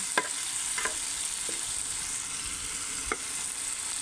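Tomatoes and green chillies cook in a pan for a village-style chilli chutney, a steady soft sizzle running throughout with a few sharp clicks of a spoon stirring against the pan.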